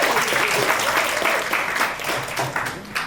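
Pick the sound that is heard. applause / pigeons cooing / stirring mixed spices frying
applause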